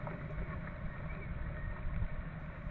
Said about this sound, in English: You can hear it around 10 to 5 here, the rain outside now.